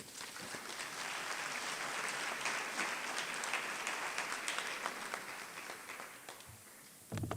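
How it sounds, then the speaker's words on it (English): An audience at a book launch claps steadily, a moderately distant, sustained round of applause that holds evenly before cutting off near the end. "Another beautiful round of applause"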